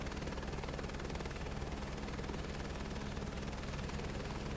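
Helicopter flying in Microsoft Flight Simulator 2024 over the Rocky Mountains, a continuous dense rotor and turbine roar, loud and steady throughout with no pauses.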